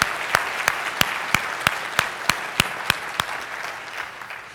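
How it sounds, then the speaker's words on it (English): Luncheon guests at a big conference gathering clap for the servers, a brief round of applause with a few sharp, distinct claps standing out above the steady patter before it tapers off. "Let's give them a round of applause."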